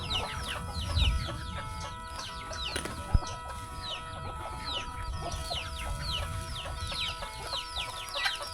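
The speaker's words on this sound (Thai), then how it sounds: "ไก่สามารถกินได้ตัวนี้" Chickens cluck and chatter steadily around a rural village in Laos, with many overlapping calls at moderate distance over a busy farmyard background, and one sharp knock partway through.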